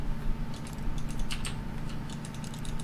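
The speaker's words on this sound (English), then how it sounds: "by simply pushing random buttons on the keypad, Stanley happened to input the correct code by sheer luck" Keypad buttons are pressed in the video game The Stanley Parable, a series of quick, faint clicks in uneven bursts over a low steady hum.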